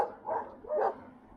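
Dogs, apparently several at a shelter, give two short muffled barks or yips about half a second apart, moderately distant and faint against a low background rumble.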